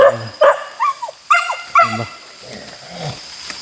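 A dog barks and yips in quick bursts up close, about five loud barks followed by softer whimpering sounds.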